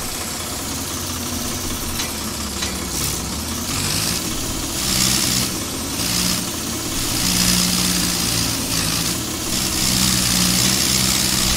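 Swaraj 855 tractor engine idling in Farming Simulator 22, a steady mid-pitched diesel rumble with a faint knocking pulse, held close and even for the whole stretch with no talk.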